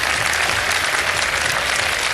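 Studio audience applause at a live Pakistani television quiz show, a dense steady clatter of many hands clapping together at close range with no talk over it.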